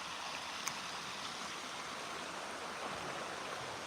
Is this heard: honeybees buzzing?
no